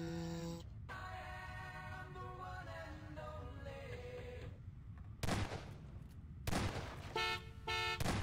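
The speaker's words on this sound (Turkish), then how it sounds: "Korna bastım daha ne yapayım?" A car horn honking in Garry's Mod, sustained tones early on, then several short sharp toots later, with a steady low background drone.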